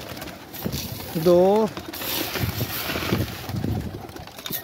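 Pigeons in a loft give a brief wavering coo close by, while someone speaks over the soft background noise and wind on the microphone.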